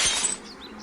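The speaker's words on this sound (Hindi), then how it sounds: "साबू का एक बार वैन का शीशा चकनाचूर हो जाता है" Van window glass shatters from gunfire in a single sharp crash, followed by a brief tinkle of falling fragments as it fades away.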